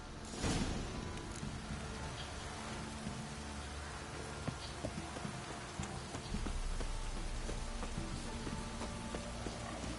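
Rainfall in The Witcher 3, a dense steady patter and hiss of drops across the whole stretch, with scattered soft knocks and taps mixed in, constant and moderately quiet.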